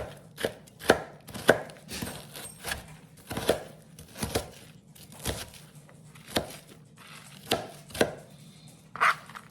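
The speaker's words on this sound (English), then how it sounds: "So I'm just running a knife over them." Knife chopping processed green tomatoes for salsa verde on a cutting board, a steady run of about a dozen sharp, close chops at an uneven rhythm, with no talk.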